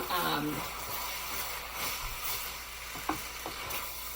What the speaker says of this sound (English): Now we're going to put our beautiful noodles in